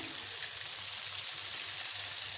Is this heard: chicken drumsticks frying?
yes